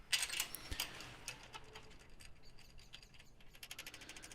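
Ratchet clicking as bolts on a Honda K20 engine plate are tightened, faint close rapid ticks in uneven bursts with no talking.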